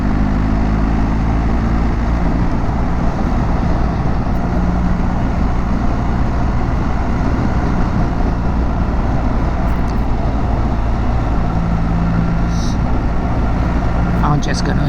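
Loud, continuous road and wind rumble while riding along a road, steady and unbroken from start to finish.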